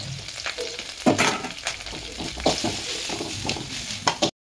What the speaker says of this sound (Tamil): இப்போ முருங்கீரை போட்டு வதக்கணும்